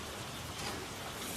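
Even, dense hiss of steady rain falling outdoors, faint and continuous with no voices.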